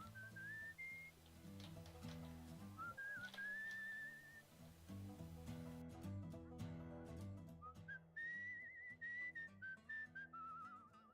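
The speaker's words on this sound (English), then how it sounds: "I think I figured out what whistling does." Whistled melody inside the video game Professional Lying Skeleton, rising and falling tonal phrases repeated through the clip over steady game music, clear and prominent.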